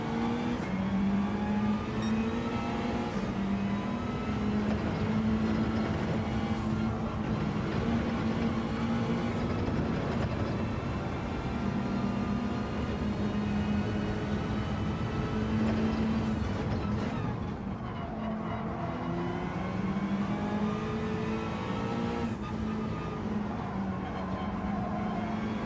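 A Mazda race car revs hard in a racing video game on an F1 circuit, a sustained loud engine whine that climbs and drops with gear changes and throttle lifts, running continuously.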